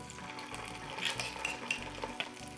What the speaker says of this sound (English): a little bit of oil in the pan, don't need too much. Okay, in with our chili paste.